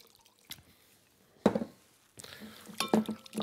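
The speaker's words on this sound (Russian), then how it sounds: "Все, картошка помыта" Potatoes being washed in water in a kitchen, scattered drips, splashes and clinks against a pot or bowl, close and fairly quiet with no talk.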